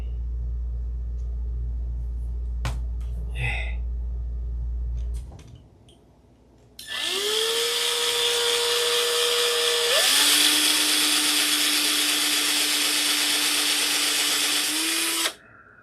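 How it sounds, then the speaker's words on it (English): A hand drill bores holes in metal parts for a Sig Magnum model aircraft with no drill press, a loud steady motor whine that starts around seven seconds and rises in pitch partway through, after a few light knocks. "Big Jim, you can see I'm drilling holes again without a drill press."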